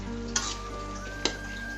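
Cucumber dish sizzling in a pan with a steady fry hiss, broken by two sharp spoon scrapes as it is stirred, close and alone.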